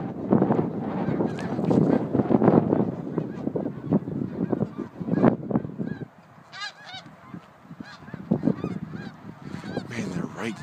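A flock of snow geese in Pennsylvania honking repeatedly at close to middle distance, their calls overlapping with wind buffeting the microphone and brief human voices.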